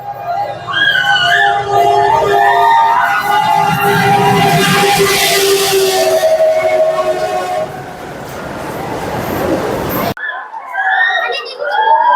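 A train rumbles loudly into Baraigram railway station with a long sustained horn blast, then the noise eases as voices carry on the platform.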